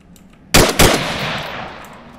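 Two sharp, loud gunshots from an Arma 3 firefight ring out about a quarter second apart, each followed by a long echoing tail that fades slowly over a quiet background.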